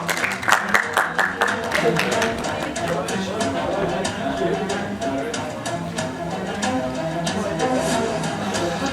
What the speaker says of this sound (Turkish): Sertifikaları almak üzere Kemal Eşref'i alkışlarınızla sahneye davet ediyorum.